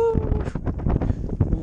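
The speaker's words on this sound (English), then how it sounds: "lots of snow, lots of wind, can't really see much here" Strong wind buffets the microphone in gusty bursts on the snowy top of Zao mountain, loud and close, with a voice partly audible through the roar.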